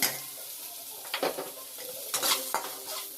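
Onions and curry leaves frying in a pan while okra stir-fry is prepared, with soft sizzling and a few sharp scraping stirs and clinks of a spoon against the pan, close and alone without talk.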